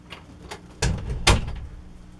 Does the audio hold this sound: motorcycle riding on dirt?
no